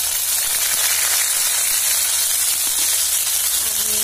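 Onion and garlic hit hot oil while making ghugni from dried peas, giving a steady, loud sizzle and fry hiss that runs unbroken for the whole stretch.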